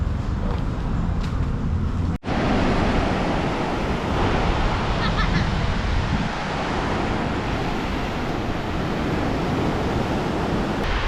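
Waves wash onto a beach at Subic Bay in the Philippines after a typhoon, a continuous broad surf roar with wind noise and a sharp click near the start.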